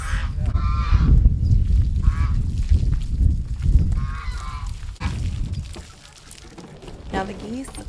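Geese honk loudly in bursts around backyard pools on a homestead, with ducks nearby and splashing water; the calls fade toward the end, leaving quieter rustling.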